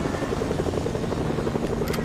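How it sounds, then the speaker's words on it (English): A helicopter's rotor in the video game Fortnite thumps in a fast, steady pulse with a constant engine drone, moderately loud and unbroken throughout. "Oh, I hear a helicopter."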